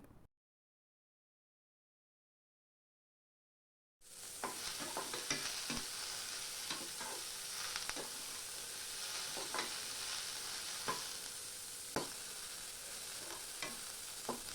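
Onions frying in a pan, a steady close sizzle with repeated spatula scrapes and clicks as they are stirred, beginning after about four seconds of silence.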